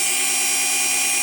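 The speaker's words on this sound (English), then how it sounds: "by activating the drill, you'll see that this nut just moves left or right depending on the rotation" A power drill spins a threaded rod that drives a nut inside a garage door opener, giving a loud, steady, high-pitched motor whine that holds for the whole moment.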